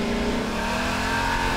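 A steady, buzzy engine drone holds at a constant pitch, a synthetic car engine in Garry's Mod revving continuously.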